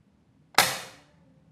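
A single sharp, high-pitched crack of a lightweight PCP air rifle shot during accuracy testing, quickly decaying, with near silence before and after.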